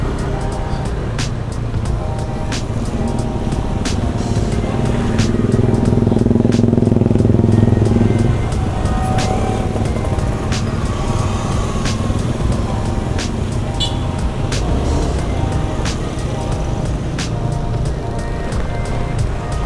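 A Honda Scoopy scooter that keeps stalling runs roughly nearby, its engine droning with an uneven low rumble that swells for a few seconds before settling, with voices talking.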